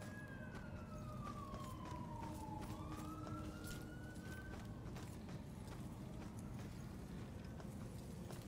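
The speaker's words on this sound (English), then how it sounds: "There are tons of sirens and things going off right now" Police sirens wail in the Murdered: Soul Suspect video game, a single siren tone sweeping down and up over a steady rumbling city background, moderately distant and quiet, with no talking.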